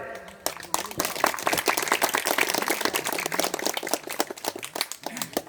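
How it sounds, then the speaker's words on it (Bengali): A crowd claps at a BJP street rally in a village, with dense, sustained applause of many hands close by, building quickly and continuing loudly throughout. "আপনারা একটু জোরে হাততালি দিয়ে অভিনন্দন জানাবেন"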